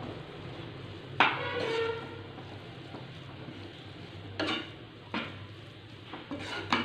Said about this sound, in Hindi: और इसे हम अच्छे से मिक्स कर लेंगे।